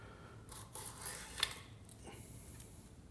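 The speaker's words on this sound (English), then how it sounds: "You drag that down the length of the carrot and you end up with lovely strips" A long, thin, fresh carrot lying on a table is peeled lengthwise into long strips, giving a few soft, quiet scraping strokes up close with no talking.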